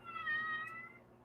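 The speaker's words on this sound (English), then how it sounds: "I'm going to have some meowing and stuff" A cat meows one drawn-out, tonal call that rises and tapers over about a second, fairly close and clear, with quiet indoor room tone behind it and no talking.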